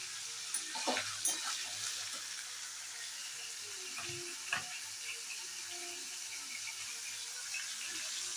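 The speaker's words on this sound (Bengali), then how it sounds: "সবজিগুলো একটু ভাজছি, এটা হালকা ভাজবো" Vegetables fry lightly in a pan with a steady, soft sizzle. A few sharper clatters and stirring bumps rise above it now and then.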